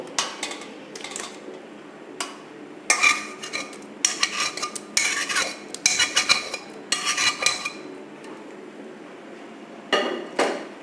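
Repeated clattering of metal pots and utensils in bursts, with clinks and scrapes of boiled green mango being tipped into a strainer, fairly close and loud.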